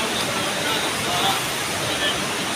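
Waterfall water flowing in a steady, loud broadband rush, continuous and close throughout with no distinct breaks.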